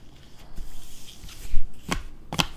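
A deck of tarot cards is cut by hand: soft rustling, then two sharp, close card slaps about half a second apart, with no voice.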